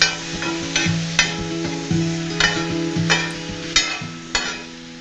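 Masala and chopped tomato sizzle on a hot tawa with butter, a steady close frying hiss broken by regular clinks and scrapes of a spoon stirring.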